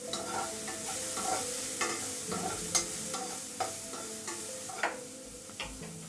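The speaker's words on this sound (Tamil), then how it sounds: "இப்போ வெங்காயமும் கொஞ்சம் வதங்கட்டும் ஆயிலில்." Onions sautéing in oil in a pan for a Tamil drumstick-leaf stir-fry, a soft steady sizzle with repeated spatula stirring knocks and scrapes close by, no talking.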